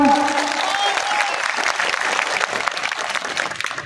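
A crowd at a farmers' protest rally claps loudly and steadily, a dense sustained round of applause with a voice briefly audible at the start.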